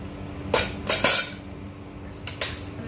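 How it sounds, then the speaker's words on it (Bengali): A frying pan set down on a kitchen stove, giving a few sharp metallic clinks and knocks close by, spaced over a few seconds against quiet background. "এখন আমি এখানে একটা ফ্রাই প্যান বসিয়ে"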